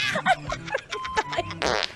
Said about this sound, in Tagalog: Umutot na nga ako sa harap niyan.